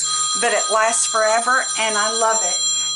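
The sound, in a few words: mobile phone ringing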